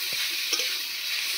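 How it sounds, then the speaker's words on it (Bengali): Bottle gourd frying in a pan with grated coconut, a steady close hiss of sizzling oil with a soft stirring scrape, no voices. "অল্প একটু নাড়াচাড়া করে আমি এবার লাউটাকে দিয়ে দিচ্ছি।"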